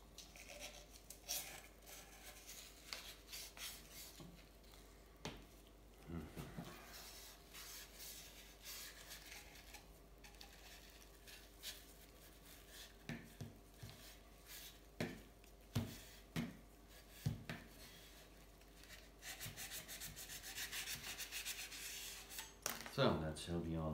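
Rubbing and scrubbing on a vintage Atala bicycle part, heard as irregular close scraping strokes and soft rasping bursts of varying loudness, with quiet handling noises between them.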